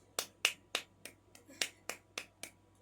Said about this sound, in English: it's like this stiff arm clap